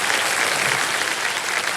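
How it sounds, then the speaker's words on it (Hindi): Steady, dense applause from a studio audience on a TV quiz show, a loud and even wash of clapping with no breaks. "जोरदार तालियां बज जाए."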